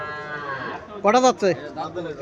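A Sahiwal bull calf at a cattle market in Chauyara, Comilla, gives two loud, close moos in quick succession after a stretch of quieter background murmur, followed by softer low calls.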